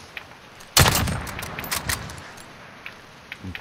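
Gunfire in Call of Duty: Modern Warfare: one loud, close sharp burst of shots, then several fainter scattered pops and clicks in a quiet backdrop, with a last small report near the end.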